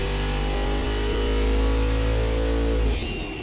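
A car engine held at a steady, loud rev on a dynamometer as the pull climbs toward 6,500 RPM, a continuous droning roar that tapers off near the end, with no talk.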